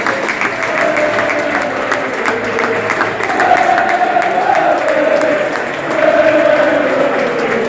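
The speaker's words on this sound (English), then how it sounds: "supporters can cheer their team on to victory" Football supporters at a Beverley Town versus Knaresborough Town cup final make a steady, fairly loud wash of clapping and crowd noise, with rising swells of cheering partway through.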